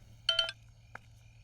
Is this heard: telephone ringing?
yes